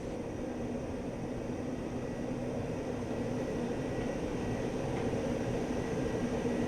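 Aircraft taxiing in the DCS World flight simulator, a steady low engine drone and hum that stays even and unbroken throughout.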